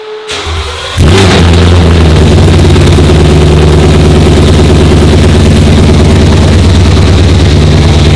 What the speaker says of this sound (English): Here's how loud the car is.